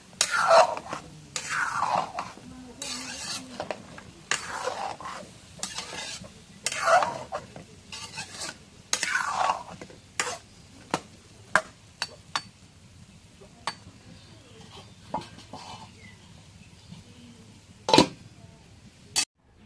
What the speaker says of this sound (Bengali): এখন এর মধ্যে সয়াবিন ভেজে দিই